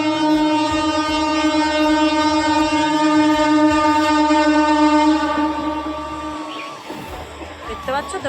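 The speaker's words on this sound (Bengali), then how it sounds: "দেখতে পাচ্ছ তোমরা ট্রেন যাচ্ছে" A train passes close by, its horn blaring in long sustained tones over the rumble and clatter of the wagons, which fades toward the end; a voice is heard speaking briefly.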